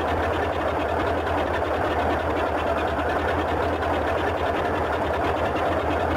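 Right engine of a Boeing 247D in Microsoft Flight Simulator running after a start, a steady dense engine drone with fast even rattling pulses and a low hum, with no talk.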